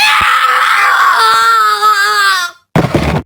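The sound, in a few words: horrific scream in the video game Clock Tower: Ghost Head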